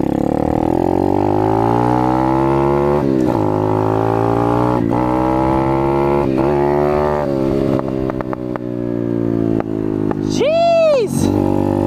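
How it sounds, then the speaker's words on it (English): An Apollo RFZ pit dirt bike engine runs loud and close with a droning hum, broken by several sharp backfire pops spread through the middle. A brief whistling rise and fall comes near the end. "This thing backfires like crazy,"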